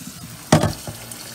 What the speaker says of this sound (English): you are going to bring the rice over to the water and you are going to wash the rice out